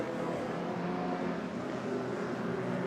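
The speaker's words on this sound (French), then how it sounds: "Mario Guérin, la voiture numéro 72. La superbe Ferrari." A Ferrari race car in a CTCC race at the Trois-Rivières Grand Prix produces a steady, droning engine roar that holds at an even level throughout the short stretch, with no talk over it.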